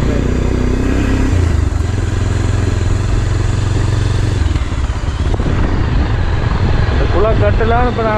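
A motorcycle ridden along a path in Oddusuddan drones steadily nearby, its engine rumble and clatter shifting slightly, with a person talking toward the end.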